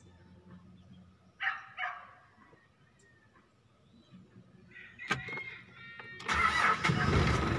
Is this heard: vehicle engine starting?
yes